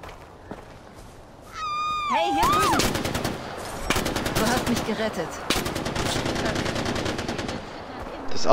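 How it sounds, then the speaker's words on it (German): Mounted gun fire in Far Cry 4: rapid bursts of loud, sharp automatic shots in several runs, with a rising whine and a cat-like squeal just before the shooting starts, and a voice underneath. "ein Geschütz ist schon eine geile Nummer"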